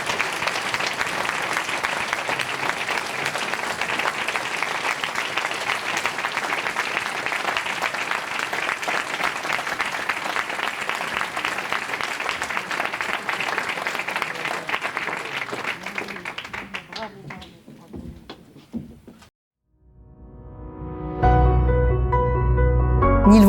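Audience applause fills a municipal New Year's greetings ceremony hall in Nilvange, steady dense clapping sustained for about seventeen seconds before thinning out and stopping, followed by a brief loud closing sound.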